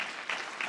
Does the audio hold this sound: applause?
yes